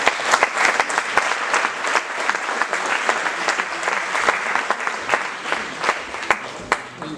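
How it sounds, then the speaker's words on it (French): An audience at an evening talk on Sufism applauds warmly, with distinct hand claps forming a steady, moderately loud patter that holds for the whole stretch without voices. "il faut infiniment les applaudir"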